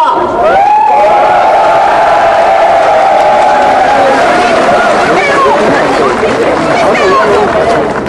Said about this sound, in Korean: 여러분의 힘찬 박수와 함성으로 시작하겠습니다